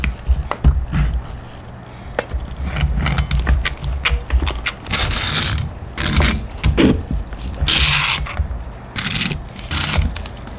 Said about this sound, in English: I just decided to run it through the laminator, really compress each of those pieces together